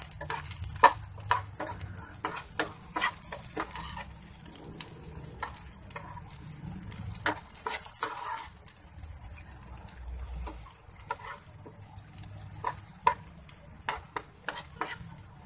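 Onion and garlic sauté in a pan with a continuous frying sizzle, broken by sharp clinks and scrapes of stirring and a brief splash of water partway through, with no talk.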